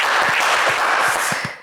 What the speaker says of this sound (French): On applaudit Olivier,